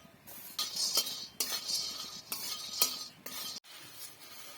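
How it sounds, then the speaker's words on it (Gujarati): Peanuts being dry-roasted and stirred in a metal pan for jhalmuri, heard as a run of close scraping, rattling clinks with brief pauses between strokes, no voices. "હવે મિત્રો, આમાં આપણે સિંગના દાણા શેકીશું."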